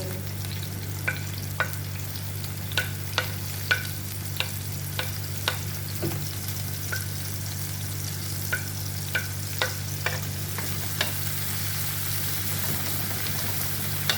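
Onion and green pepper stir-fry in a pan for fish sarciado. A steady close sizzle runs throughout, dotted with irregular light taps and scrapes of a spatula, and there is no talking.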